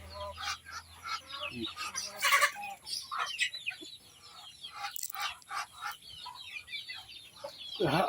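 Chickens cluck and ducks honk in a busy, irregular chorus nearby, with squawks and loud calls breaking out over a noisy farmyard background.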